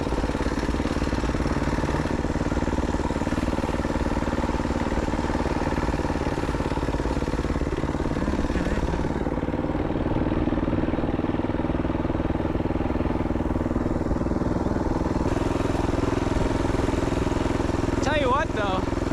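A 224cc Suburban B200R full-suspension mini bike engine drones steadily and close throughout a ride, a continuous mid-pitched motor hum with speech over it.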